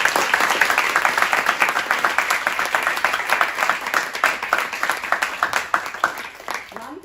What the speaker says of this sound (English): it deserves a great round of applause